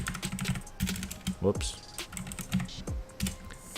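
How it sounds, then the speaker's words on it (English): Quick irregular keystrokes clatter on a computer keyboard while an admin command is typed, close and fairly quiet, with bursts of clicks and short pauses, and a voice faintly heard underneath. "So if you just go over and erase anthracite and type graphite"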